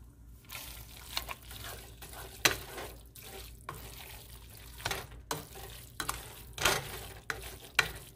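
Spaghetti topped with cheese is turned over in a pan, producing quiet, intermittent scraping and stirring clicks with a few sharper knocks of the utensil against the pan.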